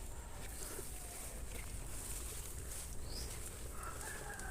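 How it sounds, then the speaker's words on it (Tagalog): Distant rooster crowing rises faintly out of a dense, noisy outdoor background, with a few clucks mixed in. "Kinakabitan nila ako ng tilaok ng manok para sundan ko."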